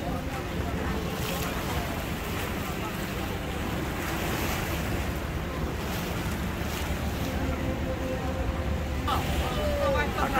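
Water of the Rhine Falls in Switzerland rushes in a dense, constant roar heard from close to the water, with wind buffeting the microphone throughout.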